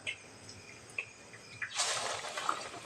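Egg bonda drops into hot oil and begins to fry. A few faint taps and clinks come first, then a sudden loud, steady bubbling sizzle rises close by and keeps going, with no talk.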